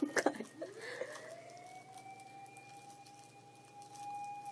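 A police car siren wails steadily through the clip, a sustained high electronic tone after a brief burst of clatter at the start, moderately loud and fairly near.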